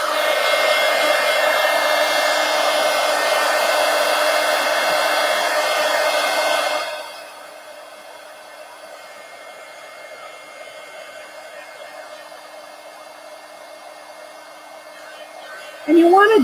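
Hair dryer drying paint on an art journal page: a loud, steady close whir that drops to a quieter, lower setting partway through, then jumps back up briefly at the end.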